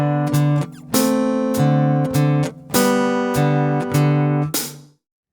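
Left-handed guitar fingerpicking the bass line and arpeggio pattern of Romanza by Bartolomé Calatayud, clear plucked notes in a steady, slow rhythm, close and loud, ending in a ringing fade with no voice.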